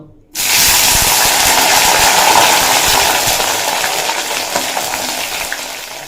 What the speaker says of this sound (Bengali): তেল গরম হয়ে গেছে দিয়ে দেব ভেন্ডিগুলো